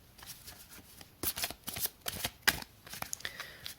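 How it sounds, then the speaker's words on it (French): Stiff tarot deck being shuffled by hand, a series of crisp riffles and card slaps in uneven bursts, close and clear with no talk. "c'est un peu mieux de mélanger comme ça pour ne pas abîmer la"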